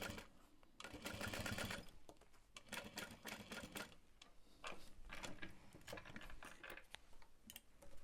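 A sewing machine runs in quick bursts of rapid mechanical clatter while basting a fabric backpack, with short pauses between stitching runs, moderately close and fairly quiet.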